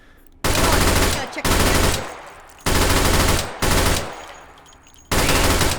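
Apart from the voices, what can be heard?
faster-firing SMG variant firing in H3VR video game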